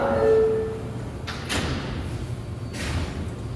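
Doors of an R142A subway car on the New York 6 train slide shut with two dull thuds a second or so apart, over low station or car rumble.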